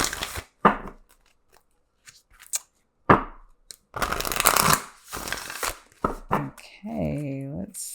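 Oracle cards riffled and shuffled in several quick bursts, crisp papery flutters separated by pauses, with a person talking near the end.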